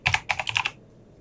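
Keystrokes on a computer keyboard while setting up an Arma Reforger dedicated server, about seven quick, close taps in a short burst followed by quiet.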